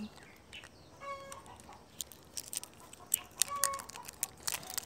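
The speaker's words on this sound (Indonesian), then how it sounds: "Kegiatan pagi biasa Ngasih makan ayam" Chickens cluck and squawk as they are fed in the morning, with scattered short calls near and far over a soft outdoor background and no voices.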